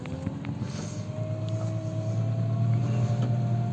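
A steady, low engine drone with a deep rumble from a Massey Ferguson 7716S tractor ploughing a field, running continuously and growing slightly louder over the few seconds.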